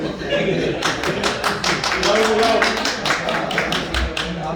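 Audience applause at a media briefing for an upcoming live concert, a steady run of sharp claps that rises after the first second and continues throughout, with voices murmuring underneath.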